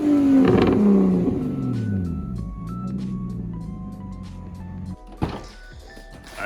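A single-turbo BMW 335i with the N54 engine sounds loud and close through its exhaust as the revs sweep down and settle into a lower drone. A sharp thunk follows near the end.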